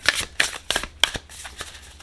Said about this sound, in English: Okay, we're going to go ahead and shuffle.